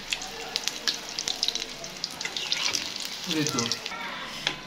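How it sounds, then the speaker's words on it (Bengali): Radish fritters (mulor chop) sizzle in hot oil with a steady crackling hiss and scattered pops, while a voice talks over part of the frying. "আমাদের সেই আনভাইরাল মূলার চপ ভাজা হয়ে গেছে না?"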